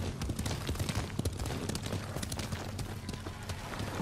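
Horse hooves clip-clop steadily at a riding pace in the game Ghost of Tsushima, a continuous close rhythmic patter over a low rumble of ambient game sound with no talk.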